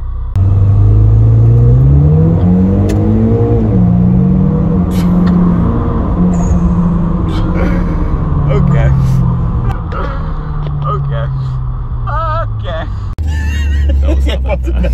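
A Mitsubishi Evo X MR accelerates hard from a red light, the engine droning and rising in pitch through the gears inside the cabin, loud and continuous, with people talking over it.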